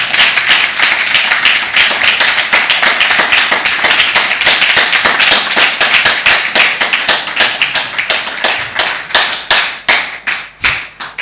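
A crowd claps along in steady rhythm at a Hare Krishna gathering, loud sharp hand claps repeating quickly and evenly throughout, with no talk over them.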